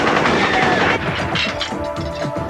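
Gunfire from kids shooting in a park, a loud dense burst of cracks and booms with a rumbling crash tail, heavy and close, with voices faintly mixed in.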